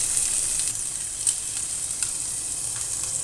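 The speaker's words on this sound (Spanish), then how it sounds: "En el mismo aceite que hemos refrito el pollo, vamos a refreír las verduras" Onion and garlic sizzle in oil already used to fry chicken, a steady close hiss of frying with faint stirring and no voices.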